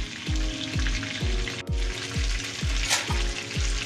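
Chicken pieces fry in a pan with steady crackling sizzle, punctuated by a regular series of low thumping stirs or taps about every half second.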